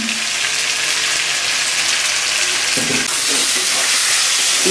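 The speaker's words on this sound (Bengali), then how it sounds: "উষ্ণ গরম জল যাবে এখন" Warm water is poured into a pan of pork kosha that sizzles hard and hisses steadily as the water hits the hot meat and spices, with a few clinks and stirring sounds partway through.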